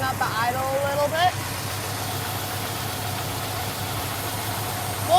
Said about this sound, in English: what we're going to do first is we're going to run up the idle a little bit.